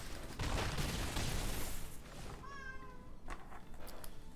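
Small house cat meowing indoors, a couple of short rising cries standing out after a louder burst of background noise.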